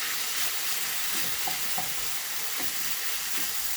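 Red and green bell peppers with onion fry in a pan while being stirred, a continuous soft sizzle with a few light scraping stir strokes, close and steady without talk.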